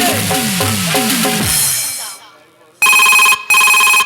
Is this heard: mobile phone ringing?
yes